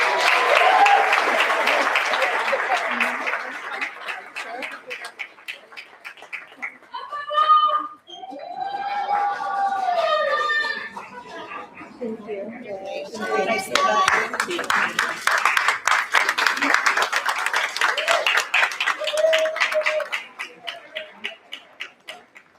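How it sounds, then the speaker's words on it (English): Board meeting audience gives a round of applause to honored classified employees, sustained clapping that thins out as voices talk during a group photo, then swells again into loud, dense applause. "Let's give them another round of applause."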